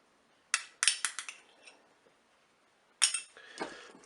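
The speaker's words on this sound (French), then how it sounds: "Je mélange." A utensil stirs chicken blanquette with crème fraîche in a Cookeo pot, giving two bursts of sharp metallic clinks and scrapes with a quiet pause between them, close and fairly soft.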